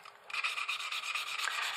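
Sandpaper rasping back and forth across the dried edge of a piece of leather, a close, quiet, rhythmic scratchy rubbing with short repeated strokes and no talking.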